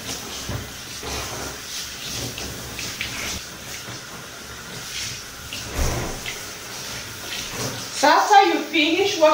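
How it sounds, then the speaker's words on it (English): Cold water runs steadily from a tap while lemon and sugar scrub is rinsed off legs, a continuous close splashing wash with brief louder gushes, and a voice talks over it. "So I'm gonna wash this off with cold water."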